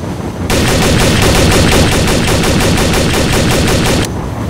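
Rapid automatic gunfire in the video game Trouble in Terrorist Town, a loud, dense burst of evenly spaced shots lasting about three and a half seconds, standing alone at close range.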